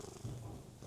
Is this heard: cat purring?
yes